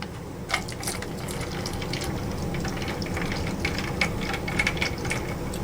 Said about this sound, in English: you're going to take your milk, and you're going to go ahead and you're going to pour it in here